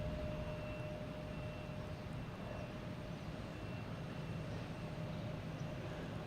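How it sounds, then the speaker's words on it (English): A JetBlue Embraer E190 jet arriving from Buffalo to land at Boston Logan Airport, heard as a steady, broad engine roar with a faint whine, holding even in level throughout with no voices. "we got JetBlue coming in from Buffalo in E190"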